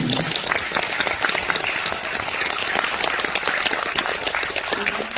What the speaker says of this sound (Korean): 이 대목에서 박수 주셔야 되는 거예요.